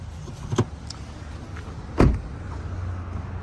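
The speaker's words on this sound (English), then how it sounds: "I forgot to open up the trunk" The trunk of a 2018 Subaru Impreza 2.0i is released and opened, giving two short mechanical clunks about a second and a half apart against a quiet outdoor background.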